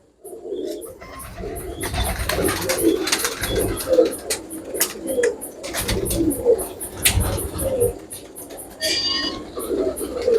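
Teddy pigeons coo in a loft with repeated soft, rolling calls in steady clusters, alongside wing flutters and shuffling, while people talk nearby.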